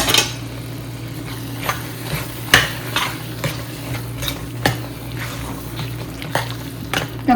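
Paneer curry with grated paneer being stirred in a pan, a spoon scraping and clinking against the metal in an irregular rhythm over a low sizzle, close and fairly loud.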